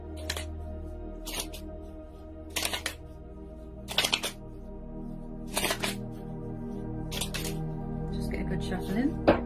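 A deck of tarot cards is shuffled in about half a dozen short, crisp riffles spaced a second or two apart, close up, while a person talks quietly throughout.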